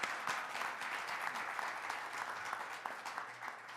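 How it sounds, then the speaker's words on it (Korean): Audience applause at an army forum session, a continuous field of many hands clapping with crisp individual claps standing out, moderately loud and sustained. "박수 한번 쳐주세요."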